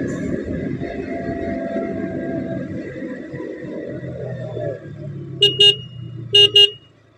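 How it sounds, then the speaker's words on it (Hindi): A car reverses on a highway. A steady engine rumble fades, then two loud, sharp beeps sound in quick succession. "ये गाड़ी पीछे बैक कर रहा है।"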